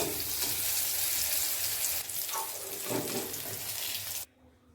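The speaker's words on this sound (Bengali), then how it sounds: "বেগুনটা লাল লাল করে ভাজা হয়ে গেছে, এখন আমি বেগুনটা নামিয়ে নেব।" Eggplant fries in hot oil, a steady crackling sizzle close by with a few stirring scrapes, cutting off suddenly at the end.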